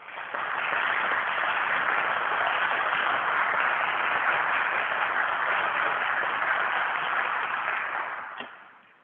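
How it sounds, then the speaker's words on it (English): Steady, full applause from an audience at a Black History Month program after a song, sustained for several seconds before tapering off at the end. "Let's give him another round of applause."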